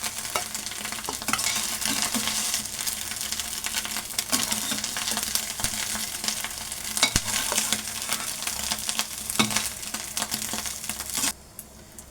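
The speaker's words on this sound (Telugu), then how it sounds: "ఎగ్ అనేది బాగా ఫ్రై చేసుకోవాలి." Egg frying in a hot pan for fried rice, a steady loud sizzle with frequent scraping stir strokes running throughout, cutting off abruptly near the end.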